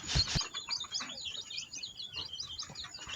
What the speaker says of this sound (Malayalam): ഒരു തള്ളക്കോഴിയും നാല് കുഞ്ഞിക്കോഴികളുമുണ്ട്